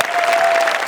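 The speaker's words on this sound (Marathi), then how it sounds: "जोरदार टाळ्या" Loud, dense applause from a studio audience at a Marathi comedy show, sustained and steady throughout with a faint tonal whine running beneath the clapping.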